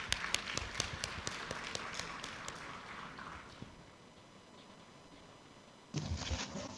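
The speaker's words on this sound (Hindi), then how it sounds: "जोरदार तालियां।" An audience applauds at the Money9 Financial Freedom Summit as a minister is invited to speak: a burst of sharp, scattered claps fades to a faint patter, then room noise returns.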